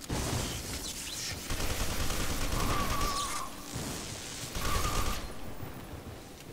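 Gunfire in F.E.A.R. 2 rattling in sustained bursts with mechanical clatter, loud and dense through the middle with brief lulls, no talk.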